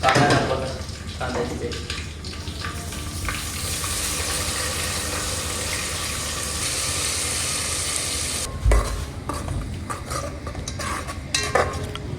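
Onions sautéing in oil in a pan for prawn biryani at an outdoor village cookout, a steady loud sizzle with scraping spoon strokes and occasional pan knocks, while a person talks over it.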